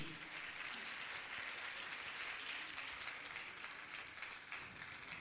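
Audience applause at an Indian religious gathering honouring guests: a dense, even wash of many hands clapping, sustained and fairly distant throughout.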